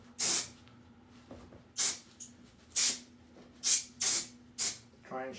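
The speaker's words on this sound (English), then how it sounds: "I'm going to spray some compressed air" Short bursts of compressed air hiss out in quick sprays, about six in a row, close and sharp against a quiet hum, cooling DeLorean DMC-12 front fascia eyebrow trim.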